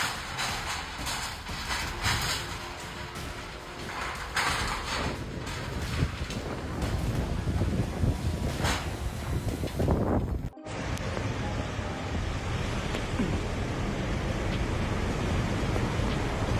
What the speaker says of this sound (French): Un impressionnant tourbillon de poussière a soufflé et détruit un entrepôt à Nakhon Si Thammarat en Thaïlande